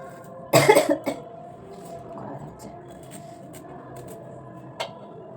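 A person coughing: one loud, close burst of a few rapid coughs, followed by quieter background and a single faint cough near the end.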